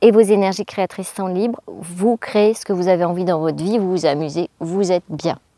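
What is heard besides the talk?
No everyday noise stands out behind the speech.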